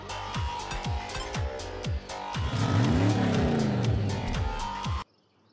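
Race cars in the Team Sonic Racing video game roar and rev close by, engines whining up and down in repeated sweeps as several vehicles pass, loud and continuous before cutting off abruptly near the end.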